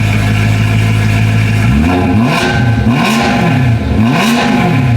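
A BMW E9X M3 with the S65 V8 and an ECS valved exhaust, valves closed, idles with a low rumble, then gets three quick, loud rev blips, each rising and falling in close succession.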